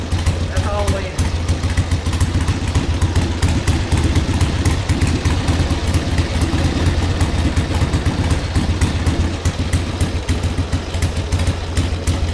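A Harley-Davidson Ironhead barn find revived after 25 years idles steadily with its choke pushed in, a low, even, lumpy engine rumble running throughout while someone talks over it.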